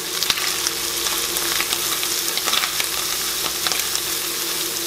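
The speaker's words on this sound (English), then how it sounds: "I like to mix the spices into my meat while it's cooking." Pork sausage browning with spices in a hot pan for pumpkin chili, a loud continuous close sizzle and crackle with occasional stirring scrapes, no talking.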